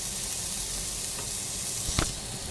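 Vegetables, including tomato and mushrooms, sautéing in a pan for a breakfast dish, a loud steady close sizzle with a brief stirring scrape near the end.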